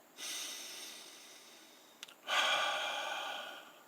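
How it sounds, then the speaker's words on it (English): Two slow, deep breaths, a long airy inhale followed by a fuller exhale, close and clear with no talking. "Take a deep breath. Take another, but try to use 4 seconds to do it."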